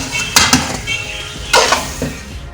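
Lobia keema with white black-eyed beans is spooned into a serving dish, giving a few clinks and scrapes of metal utensil against the dish in two close bursts, with no talking.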